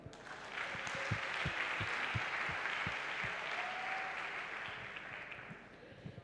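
Congregation clapping in a church service, a dense sustained wash of applause that swells early and holds for several seconds, fading toward the end, with a few louder individual claps and a voice audible briefly underneath.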